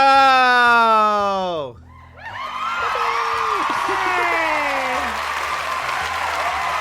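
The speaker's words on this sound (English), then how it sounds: "so much cheering, so much crowd, so much loud" A crowd roars with applause and whoops, loud and sustained, briefly dipping before surging back into steady cheering.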